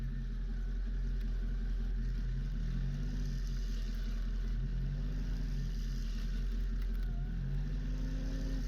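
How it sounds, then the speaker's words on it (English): A Nissan stuck in snow revs its engine in reverse during a snowstorm, a steady low drone that surges in repeated swells, loud and continuous throughout with no talk. "Give a little throttle in reverse"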